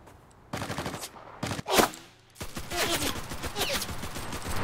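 Bursts of gunfire in the video game CRSED: F.O.A.D., starting with a couple of short volleys and a sharp louder shot, then a longer continuous rattle of rapid fire, moderately loud with faint voice traces.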